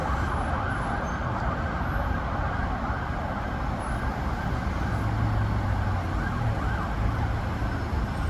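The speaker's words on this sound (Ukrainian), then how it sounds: "Поїхала пожежна машина." A fire engine siren wails at a distance over steady traffic rumble in Lviv, rising faintly as the vehicle passes along the road.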